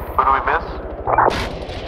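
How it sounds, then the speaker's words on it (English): Gunfire in the military shooter ARMA 3: two or three sharp, fairly close shots with a cracking tail, spaced about a second apart, with faint background noise and a voice in between. "Shooting."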